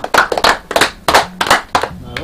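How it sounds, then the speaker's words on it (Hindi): Audience clapping at a Bhojpuri stage comedy performance, heard as several short, uneven bursts of claps with brief gaps between them. Voices are mixed in around the claps. "ताली बजाए दे बहुत सुंदर है"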